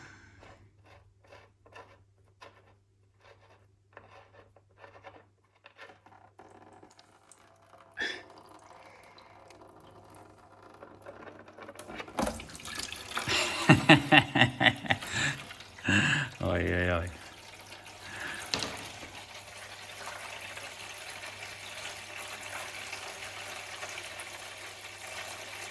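Water and debris draining out of the oil pan of a stuck V8 engine that had filled with water, heard as dripping and splashing that swells into a steadier pour midway through, with a person exclaiming over it.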